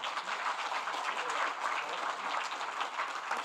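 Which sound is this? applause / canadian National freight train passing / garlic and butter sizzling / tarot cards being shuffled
applause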